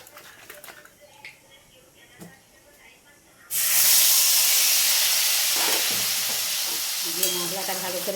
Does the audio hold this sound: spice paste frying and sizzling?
yes